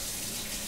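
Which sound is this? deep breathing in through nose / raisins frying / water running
water running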